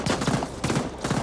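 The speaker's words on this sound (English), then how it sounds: "that shotgun was" Rapid shotgun blasts from the video game The Ascent, several booming shots in quick succession with dense, loud reports and no talking.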